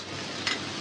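Rohu fish and pointed gourd frying in a pan, a steady bright sizzle filling the short stretch with one brief louder crackle midway.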